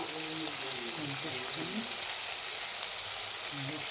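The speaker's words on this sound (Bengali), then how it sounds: "গ্যাসের ফ্লেমটা কম করে দেবো। টমেটোটা নাড়িয়ে চাড়িয়ে নেব।" Tomato frying in a pan over a lowered gas flame, stirred as spices go in: a steady broadband sizzle throughout, with faint low voice-like hums early and again near the end.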